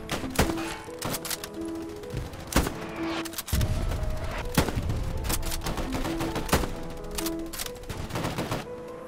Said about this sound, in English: I think that's an artillery gun